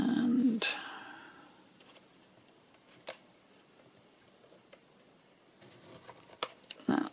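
Scissors trim paper for homemade Christmas crackers in a quiet room, with a few sharp, close snips spread apart, alongside brief handling noise and some talk.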